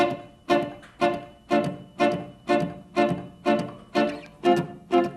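Short, bright guitar chords strummed in an even rhythm, each stab on the offbeat with silence between, about eleven in a row.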